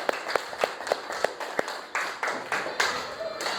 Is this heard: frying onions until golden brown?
no